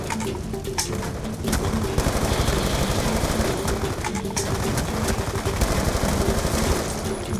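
Gunfire in the Black Ops 2 campaign: rapid automatic bursts and scattered shots crackle continuously over a dense layer of battle noise.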